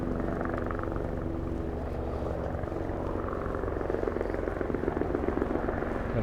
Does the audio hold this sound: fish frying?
no